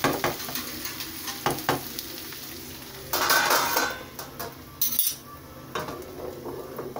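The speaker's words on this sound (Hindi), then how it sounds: "और अब मैं इसमें चम्मच हिला के इसको ढक दूंगी" Chopped onions sizzling in oil in a pan as a spoon stirs and scrapes against the metal, close and moderately quiet, with a few louder bursts of frying and clinks, without voices.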